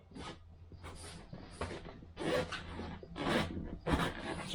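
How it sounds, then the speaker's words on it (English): Rubbing and scraping of a Range Rover air suspension bag being flattened out by hand, a series of close, rasping rustles and scrapes in uneven bursts, fairly loud with no speech. "So flattening the bag out."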